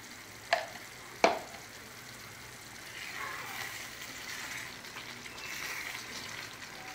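Coriander powder is stirred into a simmering stuffed brinjal curry in oil. Two sharp utensil clinks come first, followed by a soft, low bubbling sizzle that stays faint throughout.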